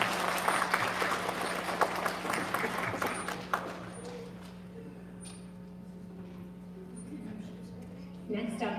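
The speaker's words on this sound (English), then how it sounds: "Big round of applause for kindergarten." An elementary school ceremony crowd applauds kindergarten students, loud clapping for about four seconds that fades into a quieter room with a faint hum and a voice starting to speak.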